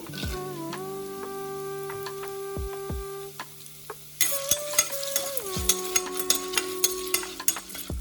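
Cashews fry in a pan while a spoon stirs them, a soft sizzle under sharp metallic scrapes and taps against the pan, with a sustained musical tone running behind.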